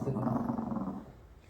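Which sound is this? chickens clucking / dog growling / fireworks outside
dog growling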